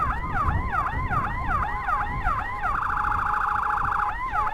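A village ambulance siren wails in close, rapid up-and-down sweeps, then briefly switches to a fast steady warble before the sweeping pattern resumes.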